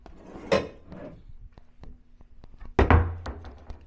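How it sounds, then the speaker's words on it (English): A drawer in a Hard Rock Hotel room at Universal Orlando sliding and knocking shut, with a couple of wooden thunks, small clicks and a final louder bump close by. "Drawer."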